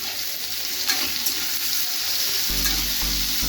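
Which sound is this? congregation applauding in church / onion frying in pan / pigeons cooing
onion frying in pan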